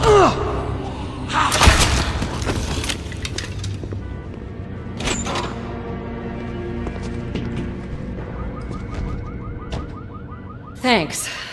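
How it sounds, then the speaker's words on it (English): A car alarm sounds in The Walking Dead: Survival Instinct, a repeating electronic warble that comes in mid-clip at moderate distance, along with scattered thumps and some voices. "And car alarms"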